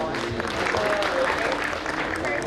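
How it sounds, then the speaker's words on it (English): An audience applauds after a performance at a conference marking a college's 75th anniversary, a brief wash of clapping with a voice speaking over it. "Let's give them a big round of applause."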